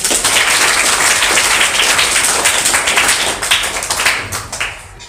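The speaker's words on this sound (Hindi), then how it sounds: "वाह, ताली।" Students clapping together at a school monthly test result event, a dense, sustained burst of hand claps that stays loud throughout and thins slightly toward the end.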